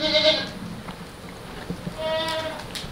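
Baby goats on a farm let out two distinct bleats, one at the start and another near the end, both fairly close with quieter farmyard background between them.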